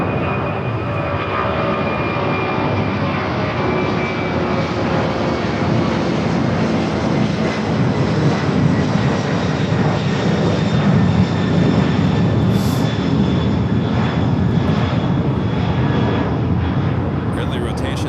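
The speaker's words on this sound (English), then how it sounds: "Early rotation there for that 767." Boeing 767 airliner taking off at Los Angeles International Airport, a steady, loud broadband engine roar that holds throughout with a faint rising whine, while a voice talks over it.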